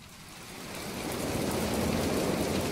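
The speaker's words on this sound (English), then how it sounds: "Oh, it's raining." Rain falling in the video game Planet Explorers, a steady broadband hiss that swells up over the first second and then holds loud and even, with no voices.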